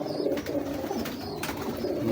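A breeder pigeon coos steadily, close and clear, its low rolling calls continuing throughout with faint chirps of other birds in the background.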